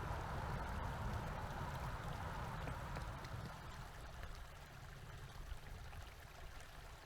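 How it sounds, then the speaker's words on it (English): A brook bubbles beside a campsite in San Bernardino National Forest, a faint, continuous rush of trickling water that eases slightly over time, with no one speaking. "listening to the brook in the background bubbling away"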